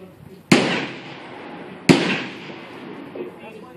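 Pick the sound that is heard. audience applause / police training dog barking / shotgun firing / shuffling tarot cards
shotgun firing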